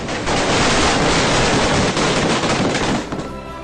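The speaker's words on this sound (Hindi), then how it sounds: "चंद लम्हों के मजे के लिए की जाने वाली ये आतिशबाजी" Diwali fireworks exploding in a loud, continuous barrage of crackling bursts that fills the whole clip before thinning out near the end.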